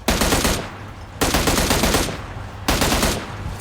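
An automatic weapon in PUBG fires three loud, rapid bursts, each lasting about a second, with short gaps between them.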